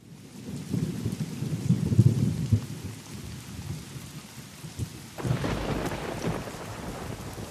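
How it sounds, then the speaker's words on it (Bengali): Heavy downpour with rolling thunder as a sound effect, a dense wash of rain that swells, dips, then surges again with a fresh thunderclap. "সেদিন মুষলধারে বৃষ্টি নেমেছে বাইরে।"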